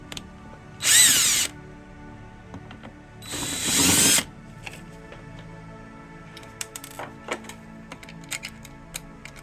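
A power drill unscrews screws from a Galaxy CB radio case in two short, loud whirring bursts, followed by light clicks and handling of parts.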